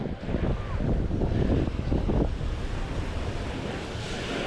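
Sea waves washing onto a crowded beach on a hot day, a continuous close roar of surf with heavy wind buffeting the microphone.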